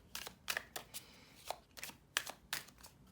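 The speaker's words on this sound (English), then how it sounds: "So let's give this a shuffle" A deck of tarot cards is shuffled by hand close up, a quiet series of soft riffling bursts in an uneven rhythm, about ten brisk flicks over a few seconds with no talking.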